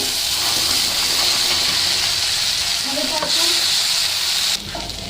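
Fried soybeans go into a sizzling Manchurian sauce in a pan, making a loud, continuous sizzle with some stirring and spoon movement. The sizzle drops sharply near the end.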